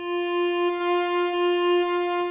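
An EaganMatrix synthesizer voice holds one steady pitched tone with a rich stack of overtones while its timbre shifts between sine and saw, brightening and softening in gentle waves, alone and fairly loud.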